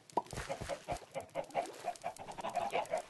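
Chickens in the Minecraft (FTB) video game clucking in short, repeated bursts, several quick calls in a row at close range.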